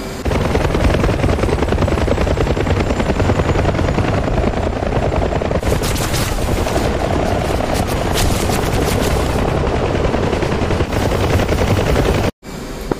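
A helicopter in the DCS flight simulator roars loudly and steadily throughout, with bursts of machine-gun fire crackling over the rotor noise in a military reenactment mission.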